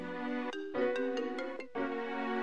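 A phone ringtone plays a short melodic pattern of bright tones in a few bursts with brief gaps, fairly faint and alone.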